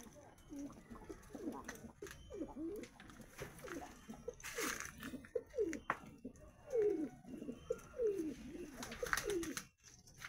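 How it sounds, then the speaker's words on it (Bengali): Several pigeons coo in soft, throaty bursts in a loft, overlapping one after another at close range, with faint shuffling between calls. "এদিকে ফিমেল পায়রাগুলো রয়েছে।"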